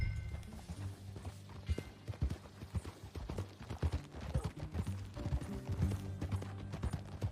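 Hooves clip-clop in a steady trotting rhythm in Red Dead Redemption 2, close and moderately loud, with faint creaking tack underneath.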